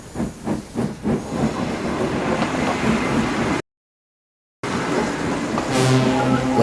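Murdoch, a steam engine, puffing over the Vickerstown bridge in fog, with rhythmic chuffing and hiss, a rolling clatter of wagons, a brief gap of silence, then steady hiss with a rising whistle-like tone near the end.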